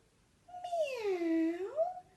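A human voice imitates a cat on a wall meowing: one drawn-out meow that swoops down and back up in pitch, close and clear against near silence.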